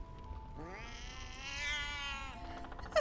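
A cat in the Baldur's Gate 3 video game lets out a single drawn-out, clear meow of about two seconds, close and alone against a quiet background.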